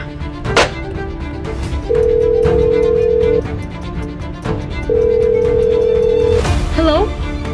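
A steady telephone dial tone sounds in two long, loud, even stretches of about a second and a half each, separated by a pause, with clicks and handset noise around them in a tense radio-drama scene.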